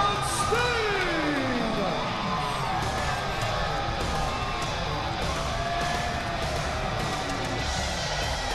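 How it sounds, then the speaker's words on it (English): A wrestling crowd at a TNA pay-per-view event in Charlotte, North Carolina roars and cheers in a large arena, a dense sustained wash of voices with whoops, under a commentator's continuous talk. "the crowd reaction here in Charlotte, North Carolina"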